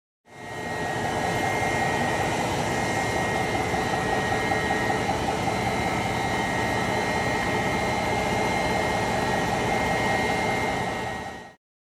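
A high-pressure pump on a SuperbMelt metal powder making machine runs as a loud, steady whirring drone with a constant hum, starting and stopping cleanly with no talk over it.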